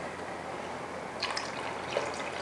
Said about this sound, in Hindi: तकरीबन आधा कप मैंने पानी डाल दिया।